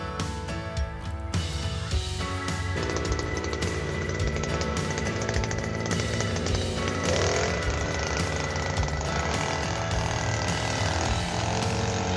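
A NOLLD NLD-6.5 petrol soil auger with an extension fitted drills a hole into ground with a clay layer, its engine droning loudly and steadily with a rough, hammering mechanical rattle throughout.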